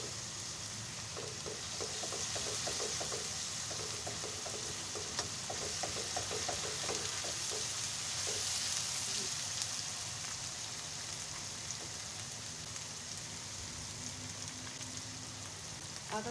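Garlic ginger paste frying in a pan with softened onions for a chicken masala, a steady low crackling sizzle with faint stirring scrapes, continuous and fairly quiet throughout.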